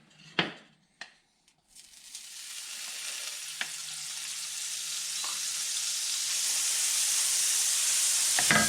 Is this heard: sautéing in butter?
yes